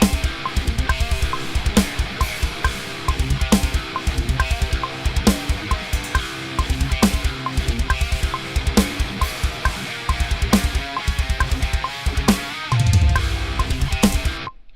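Heavy metalcore riff on distorted electric guitar with drums, loud and steady with chugging palm-muted rhythm and sharp recurring accents, running to an abrupt stop at the end.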